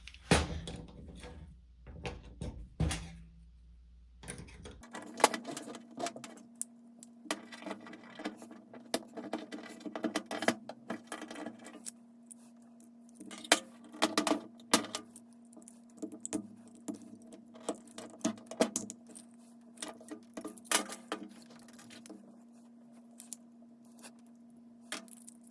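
A plastic GM key fob case is pried open to remove its battery, with small clicks, snaps and scratchy plastic taps scattered unevenly over a steady low hum, close and fairly quiet with no one talking.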